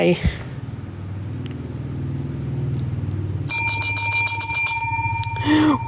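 A bell chimes during a photocard unboxing, a bright sustained ringing that starts partway through and keeps sounding, following a stretch of low murmuring voice.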